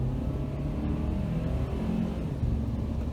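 A lifted Honda CR-V (2019) accelerating under heavy throttle during a test drive, producing a steady, loud low engine and road rumble with constant whir throughout, no talking.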